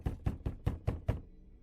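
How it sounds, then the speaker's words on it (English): Six sharp, evenly spaced knocks on a door as a sound effect in an animated horror story, loud and close, with no talk over them. "there was a knock at the door"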